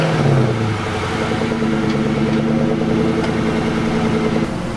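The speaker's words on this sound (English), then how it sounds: "Let's get one final stock exhaust clip." Stock V8 exhaust of a Ford Mustang Cobra rumbling steadily up close, a deep idle with a brief rev at the start, loud and continuous with no talking.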